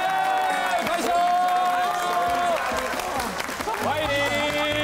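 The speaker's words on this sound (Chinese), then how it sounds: "让我们掌声欢迎马之琴，欢迎 欢迎马姐， 拍手" Audience applause and cheering at a reunion gathering for old classmates, steady clapping from a crowd throughout, with voices and a host talking over it.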